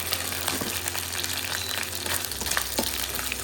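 Paneer pieces frying in hot oil in a pan until golden, a steady close sizzle and crackle with bubbling throughout, no talk.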